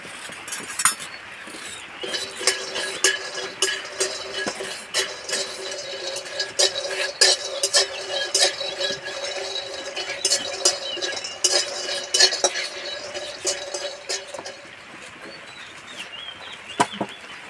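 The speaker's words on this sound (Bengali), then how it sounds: "আমি প্রথমে বাদাম ভেজে নেব।" Peanuts roast in a dry pan while being stirred, giving repeated sharp scraping and rattling strokes in an uneven rhythm over a quiet background, close by and with no talk.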